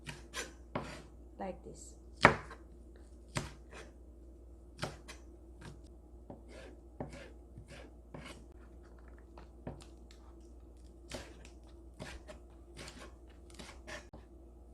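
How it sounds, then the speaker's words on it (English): A knife slices green onion into long thin shreds on a board, a steady run of quiet, sharp cutting strokes over a low background hum, one louder chop standing out early. "Slice green onion, long shredded,"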